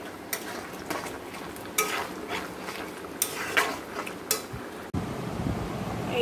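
Olive chutney cooks in a pan as a utensil stirs and scrapes through it, giving soft irregular scraping strokes over a low steady sizzle and background hum, close and moderately loud.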